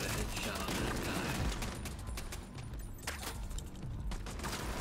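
Gunfire in The Division 2 during a mission, a dense continuous roll of shots that stays loud throughout, with sharper individual cracks standing out from the steady barrage.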